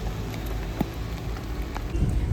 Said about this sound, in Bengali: দেখলে বোঝা যাচ্ছে কী পরিমাণ বৃষ্টি হচ্ছে